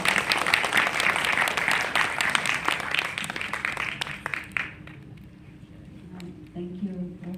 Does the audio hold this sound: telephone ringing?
no